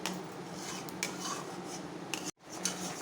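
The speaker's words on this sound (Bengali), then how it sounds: "এইভাবে তালটাকে আপনারা নাড়িয়ে নাড়িয়ে তালের গন্ধটাকে কাটিয়ে নেবেন" A spoon scrapes and stirs palm fruit pulp in a cooking pan, a continuous close rasping with a few metallic clinks and one brief pause.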